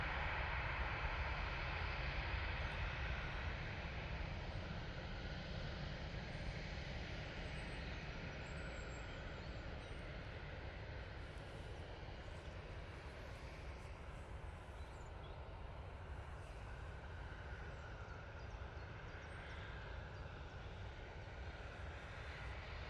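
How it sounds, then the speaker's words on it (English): A TUI Boeing 737 airliner on approach to land at Manchester Airport gives a faint, distant and steady jet roar that holds without a break throughout. "TUI 737 making its way down towards us"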